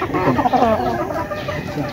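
A chicken held in someone's hands gives short, close clucks, loud and brief against a light background.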